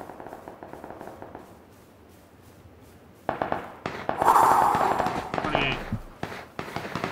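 Rapid bursts of gunfire crackle from the video game Ark, a quieter patter first, then louder volleys and sharp shots building toward the end.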